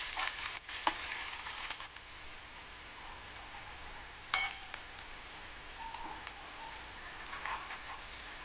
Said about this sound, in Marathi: आता मी याच्यामध्ये टाकणार आहे अद्रक लसूण पेस्ट.